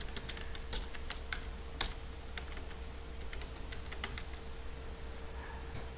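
Computer keyboard typing a SQL Server name: a run of light, quick clicking keystrokes in irregular bursts, close and moderately quiet over a faint steady hum, with no talking.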